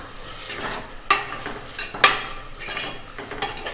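Rice and dal mixture with rock salt being sautéed in a pan, a soft sizzle under repeated sharp scrapes and clinks of a spoon stirring against the metal.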